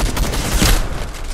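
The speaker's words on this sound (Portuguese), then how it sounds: "então é dali que ele tá atirando" Close, loud bursts of gunfire from an enemy player in a Fortnite-style battle royale match, several rapid shots clustered together, then a last sharp burst at the end.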